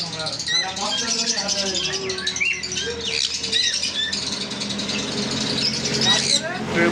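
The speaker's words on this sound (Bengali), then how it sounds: "পাখি আছে" Pet cockatiels and sun conures kept for sale call continuously in a busy chorus of close chirps, whistles and squawks.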